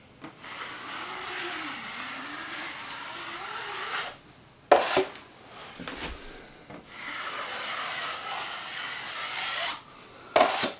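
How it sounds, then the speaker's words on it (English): A drywall trowel scrapes and spreads joint compound across a wall in a mobile home remodel, giving long rasping strokes with short pauses and a few sharper knocks between passes. "load up the trowel with just a little bit of mud on there, and then go across the mud, put plenty of mud on"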